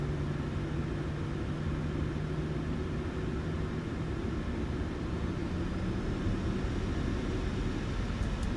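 PMDG 737 jet engines spooling up in Microsoft Flight Simulator, a steady, dense roar and rumble holding at an even, loud level throughout with no talking.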